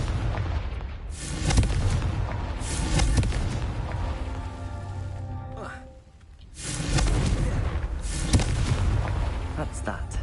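Confringo spell blasts in the video game Hogwarts Legacy, a series of heavy booming explosions with rumbling tails and a brief lull in between, loud and close.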